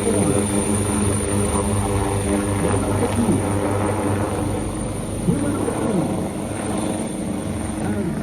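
Loud continuous Malaysian military helicopter rotor and engine noise fills the scene, with a voice talking over it and occasional rising tonal sweeps.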